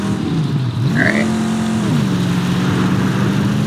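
A car engine in the Mad Max video game drones loudly and steadily, rising in a rev and then settling, with a brief higher squeal near the start and no speech.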